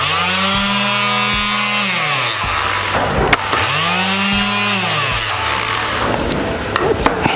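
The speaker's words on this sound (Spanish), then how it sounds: "vamos a probar nuestro toma corriente con una lijadora que tenemos acá" Electric sander plugged into a newly wired outlet, switched on twice, each time whirring up to a loud, steady high-pitched run and winding down, close by.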